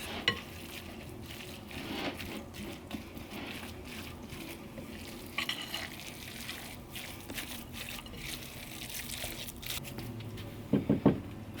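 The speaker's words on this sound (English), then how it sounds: "now you can use a spoon for your stirring" A spoon stirs jerky meat with seasoning in a bowl, giving a steady wet, squelching scrape with a few sharper clinks near the end, fairly quiet and with no voices.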